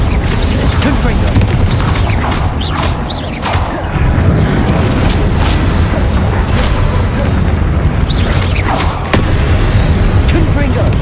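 Fiery Confringo spell explosions in Hogwarts Legacy, loud booms and crashing bursts amid chaotic combat, with a voice speaking over the noise.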